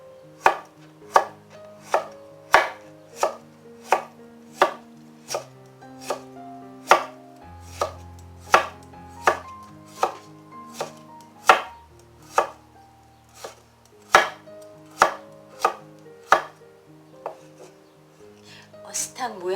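A knife slices radish for a spicy seafood stew on a cutting board, giving a close, crisp series of evenly paced chops, roughly one per second, with no talking.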